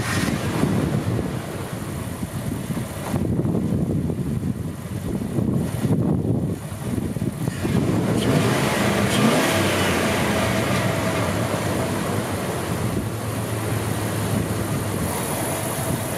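Under the open hood of a 1996 Dodge Ram 1500 SLT Laramie pickup, the engine runs close up with a steady idle and a few brief revs, a broad continuous mechanical hum with no talking.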